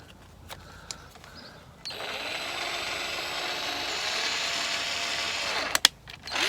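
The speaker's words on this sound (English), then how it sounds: "get a screw like this, and screw it in" A screw is driven into a plastic bottle with a whirring power driver, a steady mechanical buzz lasting about four seconds after a few faint clicks, ending with a couple of sharp knocks.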